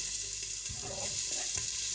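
Chopped onion dropped into hot oil with whole spices such as cloves and star anise, giving a steady close sizzle with a few bursts of stirring clatter, no voices.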